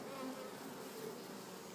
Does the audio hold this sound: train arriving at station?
no